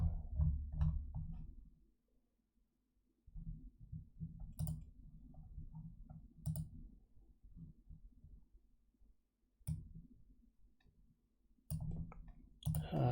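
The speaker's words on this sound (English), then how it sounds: "Spam clicking refresh." Rapid mouse clicks repeat in quick bursts while someone spams a refresh button at a computer desk, quiet, close and dry, with short pauses between clusters.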